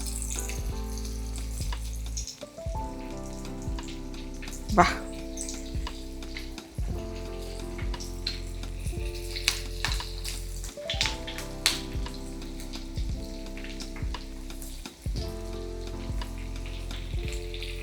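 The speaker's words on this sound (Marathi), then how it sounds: "फिश त्यामध्ये सोडला ना असा चुरचुर आवाज आला पाहिजे" Chilapi fish coated in semolina fries in hot oil, a loud continuous crackling sizzle with occasional sharp pops; a voice briefly exclaims.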